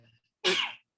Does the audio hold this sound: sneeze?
yes